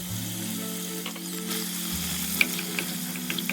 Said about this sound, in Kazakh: май әбден қызған соң етімізді қуырып аламыз